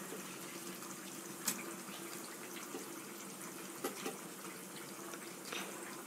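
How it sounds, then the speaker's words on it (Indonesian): Chicken thigh pieces washed under running tap water for opor ayam, a steady faint stream with a few light splashes and clinks, no talk. "ayamnya jangan lupa dicuci dulu sebelumnya"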